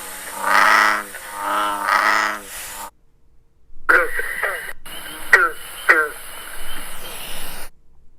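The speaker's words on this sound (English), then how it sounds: "the two of them have very different, distinctive calls" Frog and toad calls with two distinct call types: two long pulsing trills close together, then after a short silence a series of sharper, shorter chirping calls, fairly close and clear.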